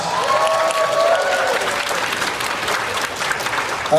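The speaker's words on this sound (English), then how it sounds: "let's give our winner a congratulations, round of applause." A festival crowd at a fan festival's closing ceremony in Toronto breaks into a loud, dense round of applause for the winner, sustained throughout with a few whoops over the clapping.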